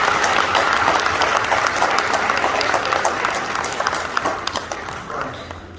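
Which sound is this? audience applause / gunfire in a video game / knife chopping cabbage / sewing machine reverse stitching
audience applause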